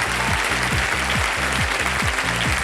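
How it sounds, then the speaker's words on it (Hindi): An audience applauds on the KBC game show. The clapping is loud and dense for a few seconds, with studio music pulsing underneath. "ताली बज जाए इसके लिए"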